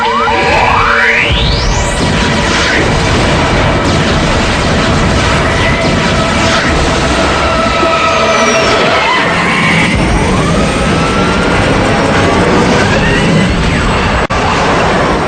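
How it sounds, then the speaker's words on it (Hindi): Cartoon robot team fires eye beams, setting off a loud, dense barrage of zaps, rising whooshes and explosions that fills the whole stretch continuously, with crashes and booms layered throughout. "Firing I beams."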